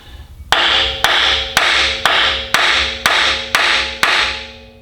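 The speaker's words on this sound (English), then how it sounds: "Give him a couple love taps here." Eight evenly spaced, sharp metallic taps strike the lower front cover of a Detroit 12V71 diesel engine, each hit ringing briefly before the next, loud and close with no talking.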